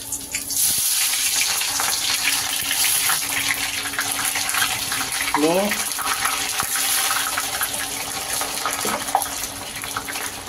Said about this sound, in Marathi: तेल कढलंय, चांगलं गरम झालंय, तर हा कांदा त्याच्यामध्ये सोडूया।